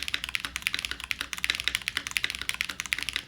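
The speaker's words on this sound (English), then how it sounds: "It's kind of growing on me the more I type on it." Rapid, steady typing on a mechanical keyboard, with crisp clicky keystrokes close up and no voices.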